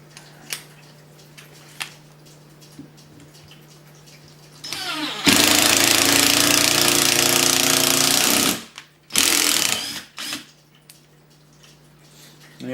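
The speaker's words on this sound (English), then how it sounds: "Yes, this is an impact driver." An impact driver hammers a screw into a Rovan RC car chassis: one loud, sustained rattling burst of about four seconds, then a shorter burst and a brief final one, with quiet between.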